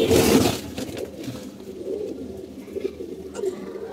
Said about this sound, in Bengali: এই যে কবুতরগুলো আপনারা দেখতে পাচ্ছেন